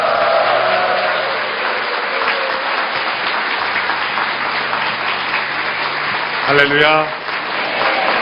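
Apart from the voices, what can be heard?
church congregation applause welcoming the pastor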